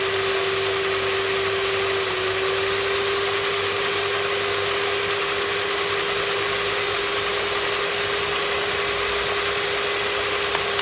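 An electric mixer beats pineapple upside-down cake batter on low speed, giving a loud, steady, unbroken motor whine close by.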